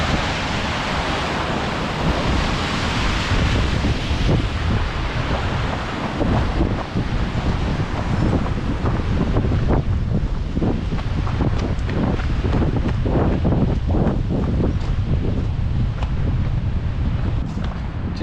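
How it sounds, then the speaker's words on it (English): Small cascading waterfall on a mountainside along a hiking trail descending toward Sawtooth Lake, a steady loud broadband rush of falling water mixed with wind buffeting the microphone, continuous throughout with no voices. "Coming down the mountain, really cool little cascading waterfall here."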